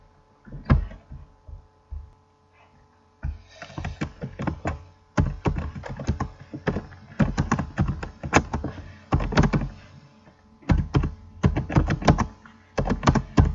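Someone types a message on a computer keyboard: close, clattering bursts of rapid keystrokes separated by short pauses, with no talk over them.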